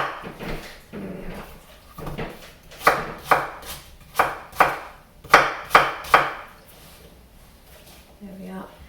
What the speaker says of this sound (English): We want to roughly chop these into small pieces.